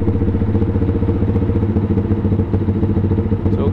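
A Honda GPR250 motorcycle engine idles steadily at low revs once warmed up, a close, even throbbing rumble with faint mechanical clatter and no voices.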